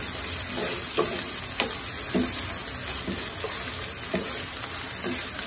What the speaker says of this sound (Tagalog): Bibigisa ka.